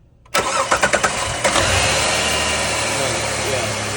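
A car engine is cranked by its starter during a battery load test. A few rhythmic cranking pulses lead to the engine catching, then it settles into a steady, loud running hum close by.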